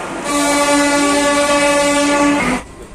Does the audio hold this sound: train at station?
yes